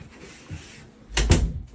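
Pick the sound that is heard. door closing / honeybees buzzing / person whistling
door closing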